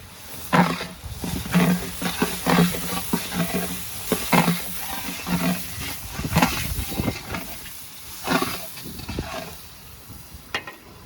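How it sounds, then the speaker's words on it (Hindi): Garlic ginger paste sizzles while being sautéed for a large pot of daig-style chana, with a loud crackling fry broken by repeated scraping and stirring strokes at an uneven rhythm. "अब मैं इसमें लहसुन अदरक का पेस्ट डाल देने लगी हूँ।"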